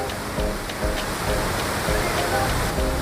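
Steady, dense rushing of Tirathgarh Waterfalls in India fills the scene, a constant broadband roar with faint brief talk-like traces underneath.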